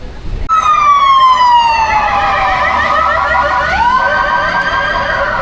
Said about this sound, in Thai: รถตำรวจที่เพิ่งออกมาจากศาลเมื่อกี้จำได้ไหม